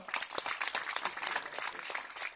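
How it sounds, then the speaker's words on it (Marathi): A crowd applauds steadily with dense, fast clapping throughout, fairly distant, at an IAS officer training workshop. "युवा रंगच्या सगळ्या कार्यकर्त्यांसाठी टाळ्या वाजवा"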